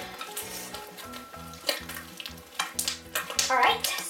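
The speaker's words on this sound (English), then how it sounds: "right now I'm adding my Model Magic Clay to my slime to make it work" Model Magic clay is worked into slime with wet, squelching and sticky clicking sounds that grow busier toward the end. A faint patterned background hum runs underneath.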